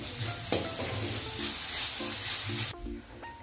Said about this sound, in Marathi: यामध्ये आपण हे वाटण केलेलं आहे, मिरची, लसूण, कोथिंबीर आणि जिरं ते घालून घ्यायचे। ते परतून घेऊया चांगलं।